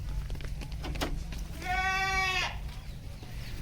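A goat bleats once in a long, wavering cry, clear and fairly close, against steady background noise on a stall-fed goat farm.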